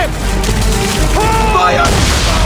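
Naval cannon fire in the Assassin's Creed 3 sea battles, with heavy low booms rolling under a dense game soundscape and speech-like voices mixed in.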